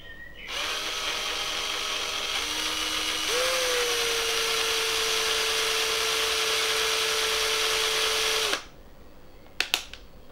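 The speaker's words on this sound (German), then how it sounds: "ist es ratsam, den Bohrer rückwärts laufen zu lassen, weil er dann nicht so leicht abrutscht" Electric drill running in reverse to scrape a small notch into a homemade jerkbait fishing lure, a loud steady whine holding for about eight seconds before cutting off, followed by a couple of sharp clicks.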